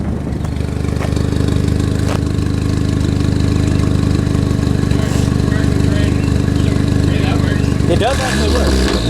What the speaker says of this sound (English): Give her a rev, Jimmy